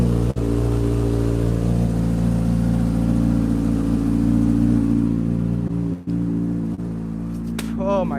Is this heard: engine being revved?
yes